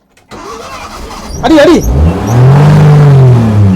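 A Maruti Omni van's engine cranks and catches, then settles into a loud, steady revving idle, with a brief voice heard near the start.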